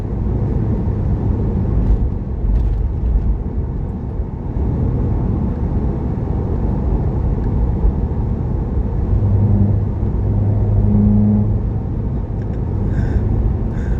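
Interior rumble of a car on street coilovers rolling over road gaps, a steady low road and engine drone with a few soft thumps as the tires cross the joints, no voices.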